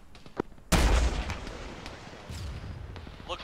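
A single heavy gunshot in a military tactical shooter game lands as a loud, booming blast with a rolling tail, preceded by a few faint distant pops and followed by scattered softer shots.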